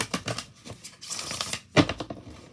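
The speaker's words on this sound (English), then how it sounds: "Okay, so let me just shuffle these." Personalized oracle cards being shuffled by hand, close and fairly quiet, in a series of soft papery riffles and slaps with one sharper burst near the end.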